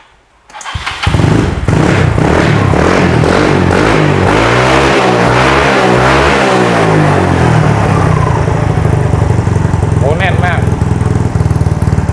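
A freshly rebuilt, just-washed Yamaha Nouvo scooter engine with a cold motor starts up and idles loud and close, revving up and down in a steady, continuous rattle for several seconds.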